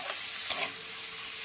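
Onion, garlic, capsicum and tomato fry together in hot oil with a steady, close sizzle and one brief stir-scrape partway through, with no voices.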